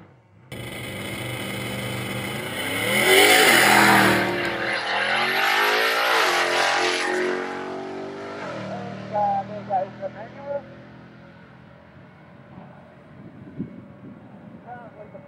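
A race-tuned Jeep, the fastest in Australia, at the Snowy Mountains 1000 roars loudly past, its engine note climbing and then fading into the distance, with a commentator talking over the pass.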